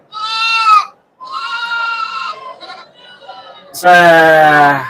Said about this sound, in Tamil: சண்டை ஆட்டுக்குட்டி கேளுங்க